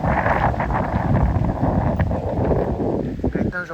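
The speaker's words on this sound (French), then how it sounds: "alors que le vent se lève et que le ciel commence à se faire un petit peu menaçant" Wind gusts steadily and loudly across a microphone outdoors during a village pétanque match, a continuous rumbling roar that lasts the whole clip.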